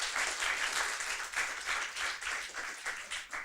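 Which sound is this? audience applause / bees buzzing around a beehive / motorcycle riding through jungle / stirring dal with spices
audience applause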